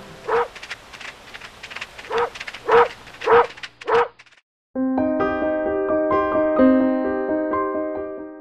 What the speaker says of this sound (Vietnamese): Con chó của gã hàng xóm, sao nó lại ở đây?